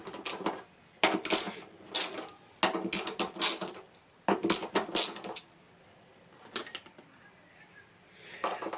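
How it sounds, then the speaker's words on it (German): Screws come out of a motorcycle tank ring for an SW-Motech Quick-Lock system, heard as close metallic clinks, ratcheting and small parts clattering in quick bursts separated by brief quiet gaps. "die zwei hinteren Schrauben müssen raus und die zwei mittleren"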